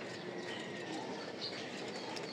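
Male roller pigeons in a loft give soft, faint coos and rustling flutters over a steady low background hum, with no voices.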